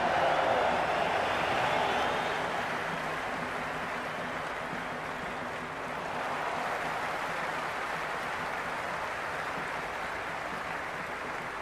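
A cricket stadium crowd at an IPL match roars in a broad, steady wash of cheering, loudest at the start, then easing into a sustained distant din.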